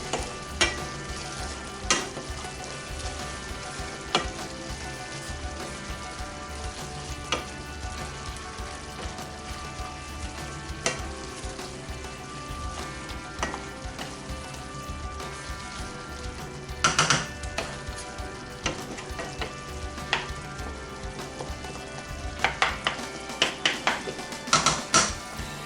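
Peeled diced tomatoes for shakshuka simmer over medium-low heat with a soft steady sizzle, while a utensil occasionally scrapes and clinks against the pan as the sauce is stirred.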